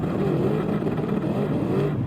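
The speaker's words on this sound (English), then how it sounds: "I'm in the pits right now with the Veyron, and I'm going to accelerate outward." Bugatti Veyron in Gran Turismo 7 accelerating out of the pits, a steady droning engine note rising and falling gently in pitch, moderately loud and alone.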